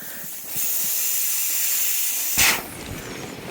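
Airgo Solus Horizon Lite inflatable driveway awning beams deflating, a steady loud hiss of escaping air that starts abruptly, runs for a couple of seconds, then bursts louder briefly before settling into a softer rush.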